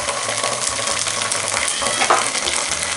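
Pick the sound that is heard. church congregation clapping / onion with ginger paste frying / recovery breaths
onion with ginger paste frying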